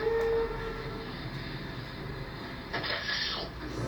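A steady rumbling train hum from Goat Simulator 3 plays on, a short tone at the start and a brighter whooshing burst near the end.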